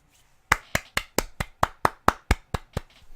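About a dozen light, evenly spaced hand claps sound close and dry, a slow polite golf clap with no voices.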